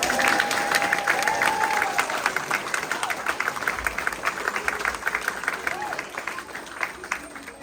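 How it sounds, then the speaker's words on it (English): An audience claps in steady, sustained applause at a school play about the 13 Colonies, loud at first and slowly tapering, with a voice speaking over the clapping. "Give that one more round of applause."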